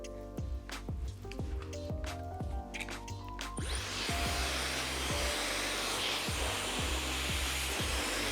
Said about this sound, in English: continue my same directional blow drying as I use on the side.